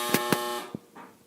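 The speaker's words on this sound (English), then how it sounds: "Sorry about the dryer buzzer there." Clothes dryer buzzer sounding in a home, two short loud electronic buzzes followed by a fainter third blip and a soft tail, alone and fairly close.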